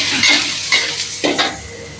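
Cashew nuts roasting in a pan, stirred with a few distinct scraping strokes over a close, steady sizzle.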